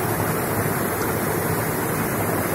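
Waterfall at a curug (jungle waterfall) in rural Indonesia, a loud, steady, full roar of falling water filling the whole clip without pause, with no voices.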